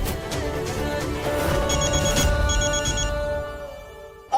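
A telephone rings in a Hindi TV serial, its electronic trill repeating in bursts over background music for several seconds before stopping abruptly, with a short sharp sound at the very end.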